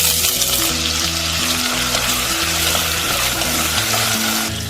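Potatoes frying hard in hot oil over a high flame with cumin seeds, a loud dense close sizzle that holds steady throughout, with faint music beneath and no voices.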